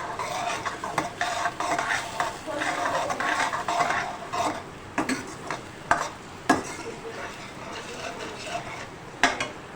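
Red chili, turmeric, salt, asafoetida and nigella seeds are stirred briskly in a hot pan for Pahadi aloo ke gutke, with a quiet sizzle under repeated scraping and clacking of the spoon.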